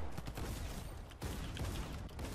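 Rapid bursts of a drum gun firing in Fortnite, a dense stream of close shots with brief gaps between volleys.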